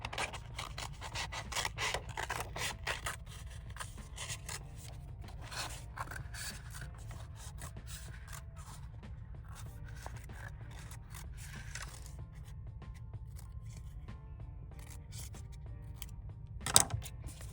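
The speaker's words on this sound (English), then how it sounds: "I'm gonna take this little mustache shape and I'm gonna cut it out" Scissors snip a small mustache shape out of paper for a crayon craft, giving a run of dense crisp cuts in the first few seconds, then softer rubbing and scraping, with one sharp click near the end.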